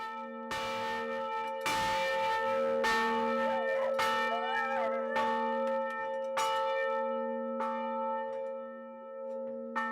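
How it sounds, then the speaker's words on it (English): An 850-pound church bell made in St. Louis rings the Angelus: about seven loud, evenly spaced strokes roughly a second apart, each leaving a long humming resonance that carries between strikes, with no voices. "I ring the Angelus every night at 6 o'clock."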